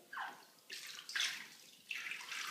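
Water poured in short splashing bursts into a bathtub, three or four quiet pours in a row with no talk.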